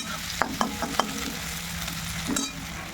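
Chicken slow-frying in a pan with a metal spatula scraping and stirring, a few sharp clicks early on over a steady low sizzle, close and fairly quiet.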